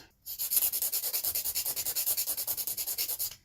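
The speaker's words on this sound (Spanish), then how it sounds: "Ahí le estoy limando un poquito por debajo" A nail file rasps against a soft gel fingernail in quick, even back-and-forth strokes, about twenty close, crisp scrapes in a steady rhythm with no talking.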